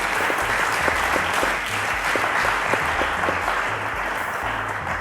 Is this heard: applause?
yes